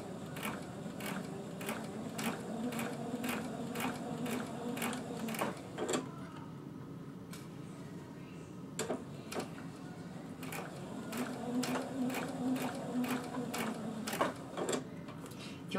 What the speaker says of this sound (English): now I'm gonna continue along hemming the bottom of my shirt.